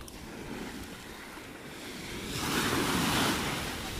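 Ocean waves at a beach in Batangas roll in with a low windy rumble that swells into a louder breaking surge midway before easing, with no one talking.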